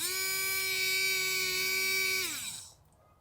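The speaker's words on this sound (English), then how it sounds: "These washer fluid pumps." A 2001 Jeep Cherokee windshield washer fluid pump runs on a bench power supply with a steady, close electric motor whine for about two seconds, then winds down and stops, leaving near silence.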